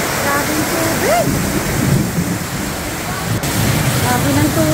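A steady roar of heavy downpour mixes with rushing flood water at close range. The sound holds loud and continuous throughout, with a faint tonal chirp or two poking through the wash and no voices audible.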